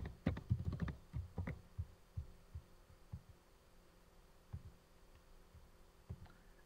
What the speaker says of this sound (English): So I'll just type that shared secret in now.